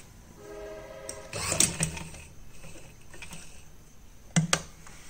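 A sewing machine stitches along a neckline, a short close mechanical whir with a few sharp clunks from handling the fabric between quieter stretches.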